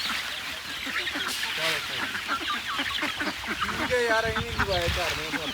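Chicks and ducks on a poultry farm fill the air with overlapping peeps, quacks and clucks, close and busy throughout, while someone talks over the birds.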